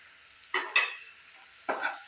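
Turmeric, cumin and red chilli powder fry with raw masala in a pan over a low flame, a soft background sizzle broken by three close, distinct spatula scrapes.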